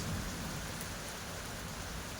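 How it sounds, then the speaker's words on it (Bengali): Steady, dense rain pours down without a break, a close, even hiss of drops hitting surfaces with no voices. "সবসময় একই রকমই একটা বৃষ্টি"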